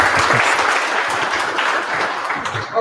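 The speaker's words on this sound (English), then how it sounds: "can we have another round of applause for that?" Sustained audience applause following a talk at a Java and AI developer conference, dense steady clapping from a room full of people throughout, tapering slightly at the end.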